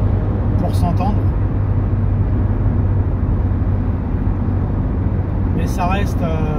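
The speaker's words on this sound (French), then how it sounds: "on entend tout de suite les bruits d'air qui sont présents, les bruits moteurs" Inside a Renault Clio 2 1.6 16V cruising at highway speed, a constant low engine drone and rushing wind noise fill the cabin at a steady level while someone talks over it.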